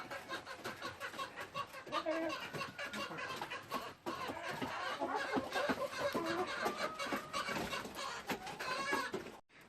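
Hens on an allotment cluck and chatter almost without pause for about ten seconds. The choppy, overlapping calls stay at a moderate distance, with one brief lull partway through.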